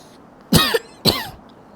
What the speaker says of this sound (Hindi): मुझे क्यों खांसी हो रही है?